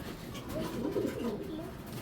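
A restless caged female pigeon gives soft, low cooing calls, close and faint, over quiet room noise.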